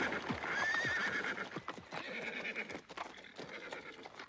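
Horses pulling a carriage at speed, a fairly loud sound effect for a narrated audiobook: rapid clip-clop hoofbeats run throughout while a horse lets out a high, wavering whinny early on.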